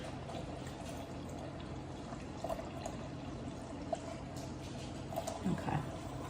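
Homemade vegetable broth is poured in a home kitchen as a faint, steady liquid stream with soft gurgles that runs for several seconds, without talking.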